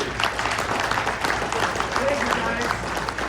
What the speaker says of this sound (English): let's give a big round of applause to panel number 2.